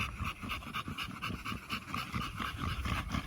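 Misfire, an American bully dog, pants rapidly and steadily in hot, humid Louisiana weather, close by and continuous, with a rhythmic wet breathing pulse.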